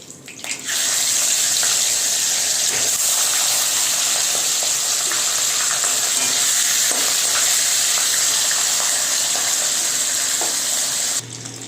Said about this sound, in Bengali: সেম ভাবে আমি মাছের মাথাগুলো ভেজে নেব।